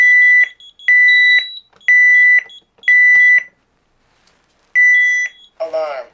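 A 1992 CareTaker Plus home automation system sounds its panic-key alarm: a series of loud, sharp electronic beep bursts in a steady rhythm, pausing briefly before one more burst, followed by a short synthesized voice.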